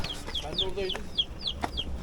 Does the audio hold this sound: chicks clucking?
yes